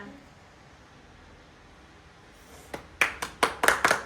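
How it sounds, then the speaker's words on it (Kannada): A handful of people clap briefly, several sharp claps close by near the end, after a quiet stretch of low background hiss. "ಸಾಧನೆ ತೋರಿದ ನಿಮಗೆಲ್ಲ ಸಾವಿರ ಸಾವಿರ ಚಪ್ಪಾಳೆ"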